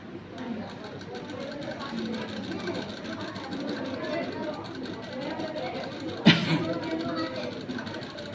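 A sewing machine runs steadily while stitching the front of a Bombay-cut blouse along the button strip, with a soft, continuous whirring hum and a brief sharp clack near the end, and a person talking over it.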